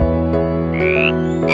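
A bullfrog croaks in a loud, close, sustained drone with a rich, buzzing tone, broken by a couple of higher rising calls layered over it.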